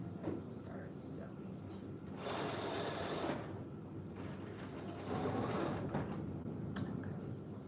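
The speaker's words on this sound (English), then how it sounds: "we'll start sewing." A sewing machine stitches a sawtooth star quilt block in two close, steady whirring runs of a few seconds each, separated by brief pauses, with faint clicks and quiet talk in between.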